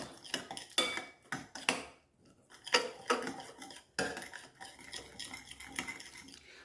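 A spoon stirring a salmon marinade in a dish, giving irregular clinks and scrapes of utensil against the dish at close range, with short pauses between bursts and no talk.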